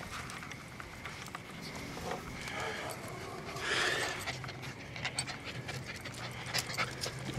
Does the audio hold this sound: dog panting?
yes